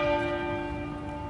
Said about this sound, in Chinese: 西敏寺当天晚间6点敲钟99下，象征菲利普亲王在世的99年。